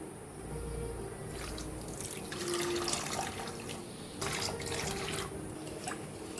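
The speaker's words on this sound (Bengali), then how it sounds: "আর আমি এই কাপেরই 2 কাপ জল দেবো" Water poured from a cup onto semolina in a pot, a continuous close splashing stream that swells and fades in a few pours.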